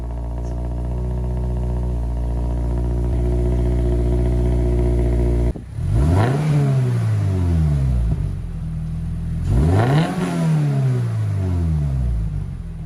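A 2023 Subaru BRZ fitted with a Q300 exhaust idles with a steady, loud drone, then two sharp revs climb and fall back, each with a rasping exhaust note.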